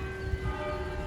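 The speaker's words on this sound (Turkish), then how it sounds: "Çan sesini duyuyorsunuz zaten." The church bells of St. Michael's Cathedral in Belgrade ring as a sustained, even tone that hangs throughout the moment, heard from outside without any talking.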